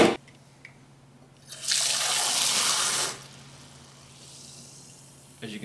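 Carbonated water pours from a custom home carbonation system in one steady, loud hissing gush of about a second and a half, framed by brief clicks and near silence.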